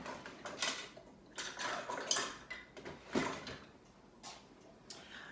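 Metal cutlery clinks and rattles while a tablespoon is fetched in a home kitchen, a close, busy jangle of utensils that comes in several bursts over a few seconds, with no voices.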